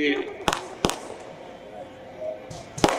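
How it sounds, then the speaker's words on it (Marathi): Firecrackers burst at a political celebration, several sharp loud bangs spaced apart, two close together early on and two more near the end, over crowd murmur. "फटाके देखील थांबायला तयार नाही आहेत"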